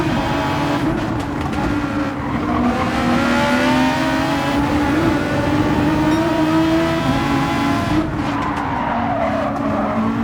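Race cars in Gran Turismo 7, including a Suzuki and a GTR, on the Nürburgring during a Manufacturers Cup race, with engines droning loud and steady as they shift through gears and tires squeal continuously.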